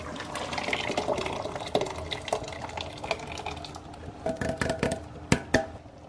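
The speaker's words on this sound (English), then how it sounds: "Tomatoes go in now." Wet, sloshing plops and splashes as tomatoes pour into a pot, building into a few sharper drops near the end, close by.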